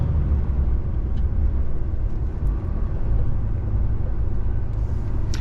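A truck engine rumbling steadily while driving along a twisting road, a dense low drone heard close and continuous, with no breaks.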